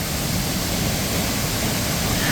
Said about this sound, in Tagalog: Oh, ito yung falls oh. Solid oh.